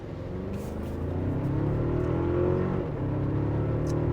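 A 2024 Toyota Tacoma TRD Off-Road accelerates hard from a standstill, its engine droning loud and steady and rising in pitch as it pulls, with road and wind roar building underneath and no talking.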